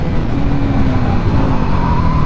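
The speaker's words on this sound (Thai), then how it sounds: "ความเร็วหนึ่งร้อยกว่าเราเบรกนะครับไม่มีรถตามหลังมานะครับ" A 2021 Honda CBR150R sport motorcycle with ABS brakes hard from over 100 km/h, a loud, close rush of wind roar with the engine note sliding steadily downward as it slows.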